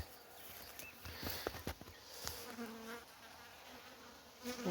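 Honeybees buzz steadily around the hives, with a few louder passes close by and faint clicks and bumps in the background.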